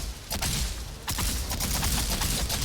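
Rapid gunfire from a firearm in the video game Valheim, a dense, continuous burst of close, loud shots with a sharp break near the one-second mark before the firing resumes.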